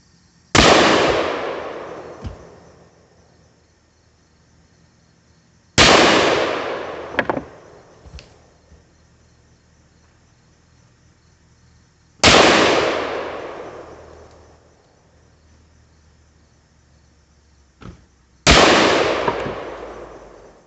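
Four loud gunshots from a .223/5.56 pistol fired at a bowling-style target setup, spaced several seconds apart, each a sharp blast with a long decaying echo, some followed by faint metallic pings.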